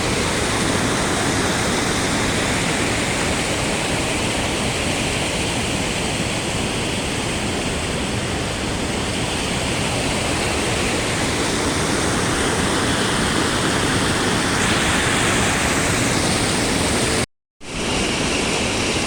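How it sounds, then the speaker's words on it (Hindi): A waterfall in Neelam Valley roars as a loud, steady rush of broadband noise, close and constant throughout, with one brief cut near the end. "अभी ये जो आपको वाटरफॉल दिखा रहा था"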